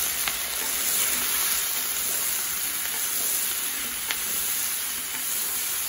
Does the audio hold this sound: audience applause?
no